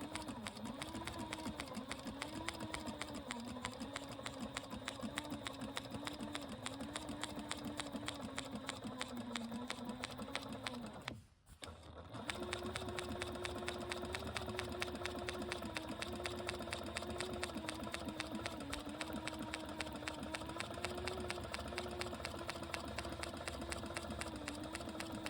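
A sewing machine stitches a seat cushion cover for an RV-10 or two-seat RV aircraft in a steady rapid whir, pausing briefly about halfway through and then running again at the same even pace, with no talking.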